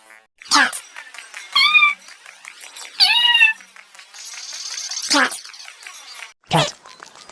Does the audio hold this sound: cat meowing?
yes